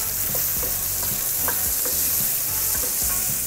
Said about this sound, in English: I'm just going to give the pancetta a bit of a stir